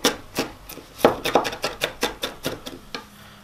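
A knife rough-chops onion on a cutting board for fresh salsa, about a dozen crisp, close taps in a quick uneven rhythm, loud and alone with no talk.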